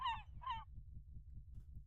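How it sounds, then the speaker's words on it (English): Two nasal seagull calls squawk in quick succession in Minecraft, set over a faint, steady rhythmic low rumble of game ambience. "Seagulls."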